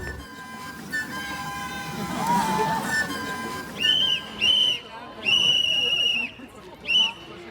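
A referee's whistle blows several short, sharp, shrill blasts in a row outdoors on a street at night, following a stretch of crowd noise and speech.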